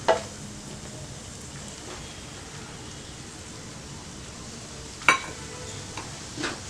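Ragi flour with nuts is roasted in a pan on a low flame, giving a soft, even hiss. A few sharp scraping knocks from the spatula stand out at the start and near the end.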